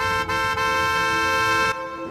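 A car horn blares on a highway in one long, steady honk, broken by two brief gaps early on, then cuts off, leaving low road rumble.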